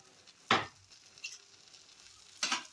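Mango patishapta cooking in a pan over raised flame, with two distinct scraping, sizzling bursts of spatula against pan over a faint quiet background.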